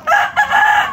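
A rooster from a Manila farm crows loudly and close by in one brief, strained call, with no talking over it.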